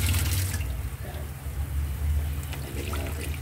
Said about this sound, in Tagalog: Dadagdag tayong tubig para mas lumambot pa.